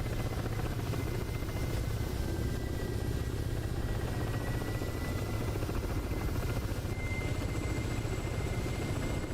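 Apache attack helicopters flying in a video game, a steady, loud rotor drone and engine buzz holding evenly throughout without pause.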